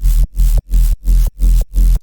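Jump up drum and bass synth bass played without a frequency shifter, six loud, heavy, evenly spaced notes with hard cut-offs and short gaps of silence between them.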